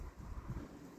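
Wind buffeting outdoors at night, a low rumbling gust of microphone wind noise that fills the short moment steadily, faint overall with no talk.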